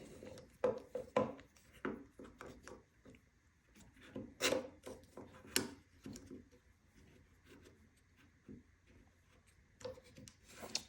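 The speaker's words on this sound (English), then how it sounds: "So I will clamp that one in." Clamping a wooden back block behind a boat transom before drilling for a brass insert: scattered knocks, rubs and sharp clicks of the clamp being fitted and tightened, fairly close and quiet, with no talk.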